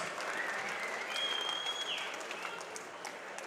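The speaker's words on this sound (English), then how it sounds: "Ladies and gentlemen, a big round of applause for the two warriors in the ring." A crowd at a pro boxing match applauds, a dense steady wash of clapping close by, with a brief whistle rising over it.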